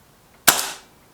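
A single shot from a Kral Puncher K air rifle: one sharp, loud crack that dies away quickly into quiet.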